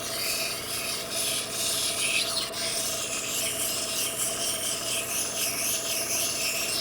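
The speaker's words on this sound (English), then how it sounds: "just rub it out from different directions. You can press aggressively here." A cabochon stone's ridge line is rubbed firmly against a grinding surface from several directions, producing a steady, continuous gritty rasp close up with no talking.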